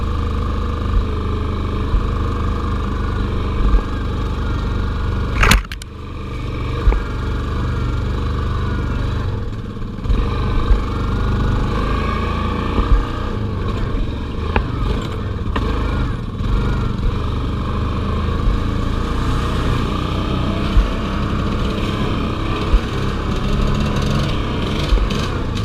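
Two-stroke ATV engine running steadily for a long stretch, a buzzing drone with a brief loud crack near the start and small surges throughout, fairly close with no clear talking.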